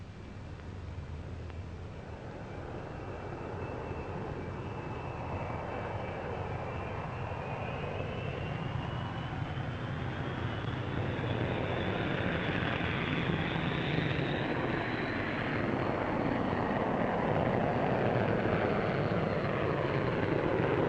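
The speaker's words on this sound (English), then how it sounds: "Here we see the first two Vulcans taking the air." Two Avro Vulcan jet bombers fly overhead at an air show, a long, steady roar that swells gradually with a rising whine sliding upward, distant and washed with noise.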